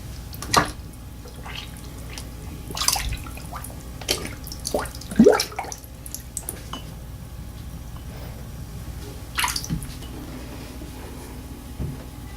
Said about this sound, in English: Go ahead and soak those.